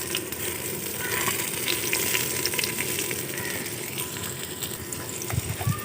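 Tomatoes sizzle and fry in a pot of browned onions for a village-style chicken pulao, a steady, loud crackling hiss running unbroken throughout with a few sharper pops.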